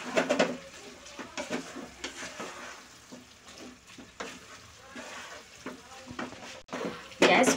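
Fresh coriander is mixed into a dry, spicy jackfruit sabzi in a pan, with a quiet sizzle under repeated scraping and clinking of a spoon against the pan at an uneven pace.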